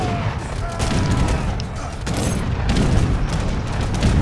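Cannon fire and heavy booms from an Age of Empires 3 battle, a dense continuous barrage of gunfire and blasts with faint speech underneath.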